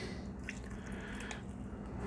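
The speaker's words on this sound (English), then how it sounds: "Now that we got that dripping a little bit, right?" Cold brew coffee drips quietly into a vessel, with a few faint, separate drops and a soft wet squish over a low background.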